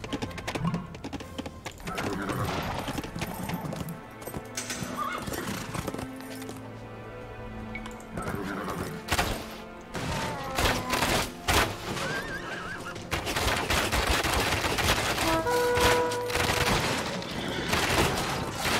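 Horse archers' horses in Age of Empires II neigh and whinny amid clip-clopping hooves, arrow volleys and battle clatter, with mouse and keyboard clicks mixed in, a dense continuous game soundscape.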